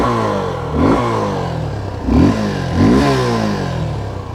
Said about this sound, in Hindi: एक बार आपको बाइक की आवाज़ सुना दूँ मैं।